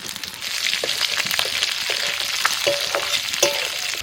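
Diced capsicum and onion sizzle in hot oil with fried ginger and garlic, a steady close crackle and hiss punctuated by occasional sharp pops and scrapes of stirring, with no talking.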